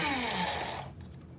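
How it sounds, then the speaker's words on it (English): Electric grinder whirring as it grinds seeds for muesli in a home kitchen, a loud steady motor whine that drops in pitch and winds down to near silence after about a second. "grind it a little bit more"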